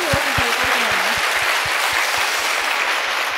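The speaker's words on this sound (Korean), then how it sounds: "우리 하나님께 영광의 박수를 보냅시다." Applause rises at a church evangelistic gathering in Japan, a broad wash of clapping from the congregation, with a run of low, evenly spaced thumps pulsing beneath it like rhythmic clapping or stamping from start to finish.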